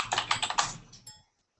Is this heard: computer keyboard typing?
yes